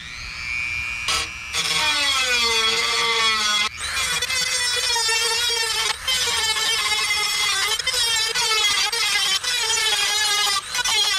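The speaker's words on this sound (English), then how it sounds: "Now we gotta grind it down a little bit and make it fit." A power tool grinds down a cut opening to fit trail backup lights on a Ford F150, a loud continuous whine with shifting pitch that runs almost the whole time, briefly dropping out a few times.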